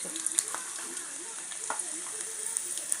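Mint leaves frying in oil for mint chutney, a close crackling sizzle with light pops and stirring taps over a steady hiss, with no speech.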